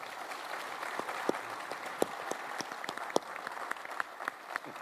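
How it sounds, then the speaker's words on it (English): An audience applauds a conference panel at a Sea Air Space event on defense acquisitions, a steady, moderately quiet wash of clapping with distinct individual claps standing out, and no talking over it. "Please a round of applause for your panel."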